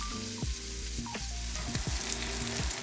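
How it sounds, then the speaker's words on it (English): Pork sears in hot oil in a pot, giving a steady crackling sizzle close by with a few knocks from the utensil, and no one speaking. "Once your oil begins to smoke, add your pork and turn down your heat to medium."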